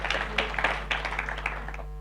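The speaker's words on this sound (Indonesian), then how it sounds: "Tepuk tangan yang meriah bagi dia" A church congregation claps during a Sunday service, a scattered, uneven patter of hand claps over a low steady hum, fading toward the end.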